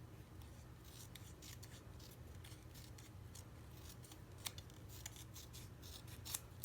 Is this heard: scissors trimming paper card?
yes